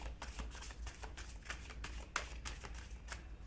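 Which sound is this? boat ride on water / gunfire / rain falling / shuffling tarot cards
shuffling tarot cards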